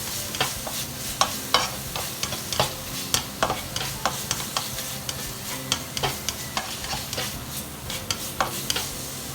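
Red curry paste is stir-fried in a pan with shrimp to follow. A spatula scrapes and stirs in a steady rhythm over a constant close sizzle.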